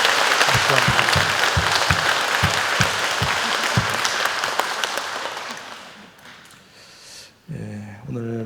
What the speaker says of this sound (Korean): 우리 모두에게 박수 한번.